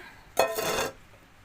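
Champignon mushrooms tumble into a 5-litre cooking pot in one short, bright rattling burst lasting about half a second, close up and alone, followed by a quiet room.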